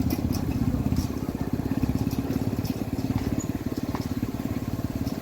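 A motorcycle engine runs steadily while riding, with a fast, even low pulsing and wind rush heard close and continuous, and no clear talking over it.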